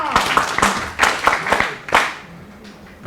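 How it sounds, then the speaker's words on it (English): Scattered audience clapping after a professor's lecture to journalists, heard as a few loose, uneven bursts of claps that thin out toward the end. "Ladies and gentlemen, give him a big round of applause for the kind"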